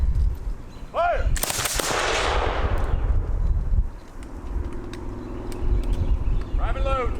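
A musket volley fired by battle reenactors cracks out in one sharp, loud burst, followed by a long rumbling echo. Horses and distant voices are heard around it.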